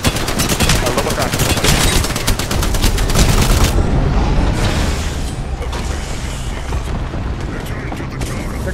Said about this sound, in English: They're getting shot from down.